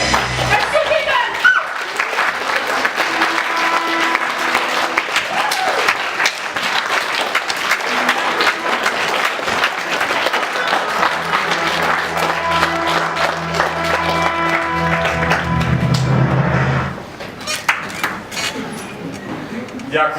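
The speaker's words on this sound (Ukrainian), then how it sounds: "Так встречайте громкими аплодисментами!" A crowd greets a guest at a charity foundation event with loud, sustained applause and cheering. Voices rise through the clapping, and a speaker begins talking as the noise dies down near the end.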